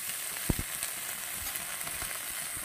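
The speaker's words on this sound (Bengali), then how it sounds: "ব্রোকলিটা আর আলুটা আমি ভেজে নিয়েছি হালকা করে" Broccoli and potatoes frying lightly in oil in a pan give off a quiet, steady sizzle with a few faint clicks and taps, close by and soft, with no voices.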